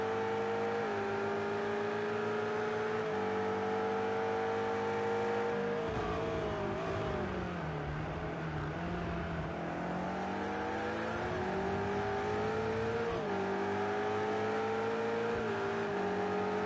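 Ferrari race car in the Project CARS 2 racing game at the Red Bull Ring, its engine droning loud and steady alone, pitch climbing and dropping through gear shifts and throttle changes.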